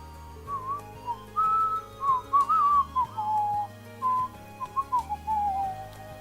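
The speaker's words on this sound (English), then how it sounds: "You were trying to whistle?" A person whistles a short, wandering tune close by in clear, bright phrases broken by brief pauses, with no talking under it.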